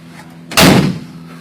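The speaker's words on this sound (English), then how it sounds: "I'm going to close my door" A single solid thump of a Model A coupe door shutting, close by, with a short dull tail in an otherwise quiet space.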